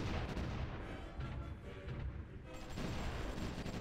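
Artillery fire in the World War I strategy game Supreme Ruler The Great War, a steady low rumble of distant booms and shelling, faint and continuous, without talk.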